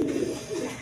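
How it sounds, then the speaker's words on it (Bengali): High-flying pigeons give a low, throaty coo close by, one brief rolling call that swells and fades. "দেখেন হাই ফ্লাইং কবুতর এইগুলা"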